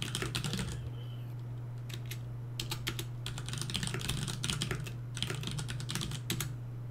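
Notes are typed on a computer keyboard in quick clustered bursts of light key clicks separated by short pauses, close and fairly quiet over a steady low electrical hum, with no talking.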